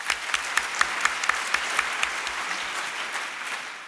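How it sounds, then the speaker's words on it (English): A panel audience in Singapore claps to welcome a speaker, a dense round of applause with a few sharp claps standing out, steady and then fading slightly, with no talk over it. "A round of applause to welcome him,"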